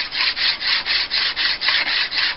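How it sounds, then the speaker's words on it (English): Knife blade drawn back and forth on the coarse side of a dual-grit sharpening stone wetted with WD-40, a close, even rhythm of about ten scraping strokes, alone. "I got the coarser side of this dual grain stone. Moving in one plane,"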